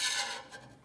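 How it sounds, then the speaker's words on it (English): Hand scraper shaving material off the end of a wooden instrument-making table, one short dry rasping scrape close up, loud at first and then fading. "I'm going to go back in here with the scraper"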